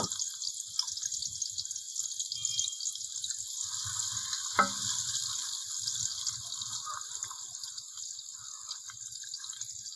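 Chopped onion frying in a hot pan for halwa puri chana, a steady close sizzle with faint drips and stirring throughout and one brief clatter near the middle.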